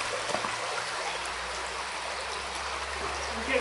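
A small river flowing under a railway bridge makes a steady, broad rushing wash of moving water, continuous and moderately close, with faint low rumble beneath.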